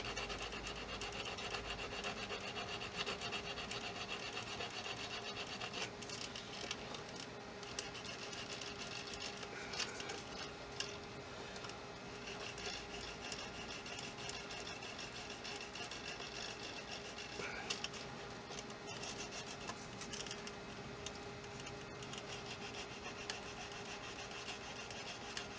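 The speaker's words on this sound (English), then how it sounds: "And then for this one I use a thinner sander" A thin sander rubs and rasps continuously over a small part for a model German railgun, a soft, steady scratching with slight variations in tone, close by and with no talk.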